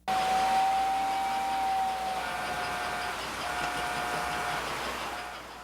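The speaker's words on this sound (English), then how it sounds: "the trains are S-gauge American Flyer, which are 3/16 inch scale" An S-gauge American Flyer toy train, 3/16-inch scale, runs on a detailed layout, giving a steady rolling rumble with a sustained whistle-like tone near the start that fades after about two seconds, with no talk.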